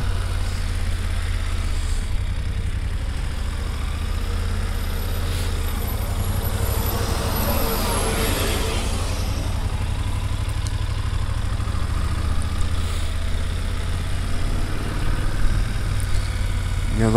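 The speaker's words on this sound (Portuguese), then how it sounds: "E agora tem um caminhão ali na frente." Steady engine drone from a vehicle on a mountain road climbing the Serra do Rio do Rastro, heard from a BMW F850GS motorcycle trailing a truck, with continuous low rumble and wind noise throughout.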